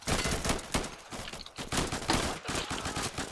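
Rapid gunfire rattles in the Insurgency video game, with dense bursts of automatic shots in quick succession and short gaps between volleys, fairly close and harsh.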